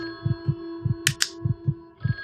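A telephone in a dark room in a video game gives two quick bright rings over steady electronic hum and a slow, thudding heartbeat pulse that continues throughout.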